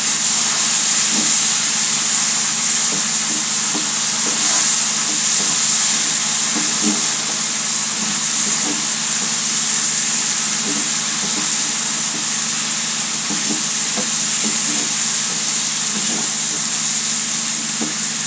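Dried ichha shrimp hitting a hot pan, giving a loud, steady sizzle and hiss that runs evenly throughout, with faint clinks and stirring taps underneath and no talking.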